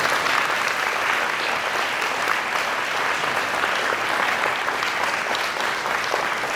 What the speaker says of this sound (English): Can we give a round of applause to all of those folks